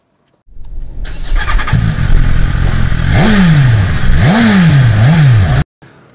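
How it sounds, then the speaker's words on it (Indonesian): A Toyota Corolla Altis engine starts up and runs, then revs several times in rising and falling sweeps, loud and close, before cutting off abruptly. "kalian harus dengar suara mesin mobil ini ya"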